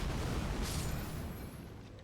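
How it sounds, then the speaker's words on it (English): A violent in-game explosion in a randomizer run: a dense, loud broadband blast with heavy low rumble that stays sustained and slowly fades across the clip, with no talk. "like the explosion that comes off this just sounds so violent"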